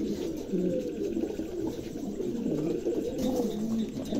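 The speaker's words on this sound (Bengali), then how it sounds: "চমৎকার এক জোড়া কবুতর" Exhibition homer pigeons coo in a steady low warble, several birds calling continuously and close by with no other sounds.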